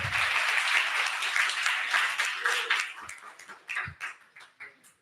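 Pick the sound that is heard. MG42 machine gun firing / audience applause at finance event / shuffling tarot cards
audience applause at finance event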